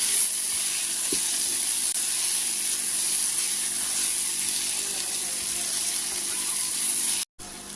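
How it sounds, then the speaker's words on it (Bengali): Bottle gourd stems stir-fried with chili powder and spices in a pan, giving a steady loud hissing sizzle that holds nearly unchanged throughout, broken by one brief dropout near the end. "আর অল্প একটু মরিচের গুঁড়া দিয়ে একসাথে কষিয়ে নিই ভালো করে"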